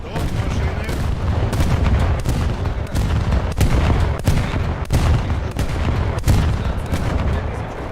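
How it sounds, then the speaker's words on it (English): Rockets launched from a warship in a naval combat video game, a rapid string of sharp blasts and booms firing every half second or so over steady loud rumble, with faint voices underneath. "Let's test out the potency of these rockets."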